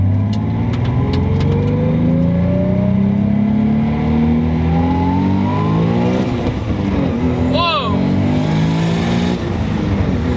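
A Nissan 300ZX Z32 with a 500 hp twin-turbo RB26DETT engine accelerates hard in first gear, heard loud from close by. Its rising engine note climbs steadily, then there is a quick shift and it pulls again.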